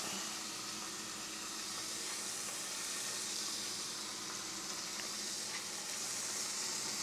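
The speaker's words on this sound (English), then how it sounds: "butter's melted. Ooh, sizzle is happening." Steady, dense sizzling of duck and goose meat frying in hot melted butter, a continuous crackling hiss close up with no voices.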